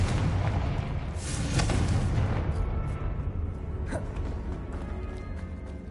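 A Confringo blasting spell detonates in a Hogwarts video game, a loud booming burst with crackling debris that swells around the second mark, then fades into a rumbling tail with a fainter second pop.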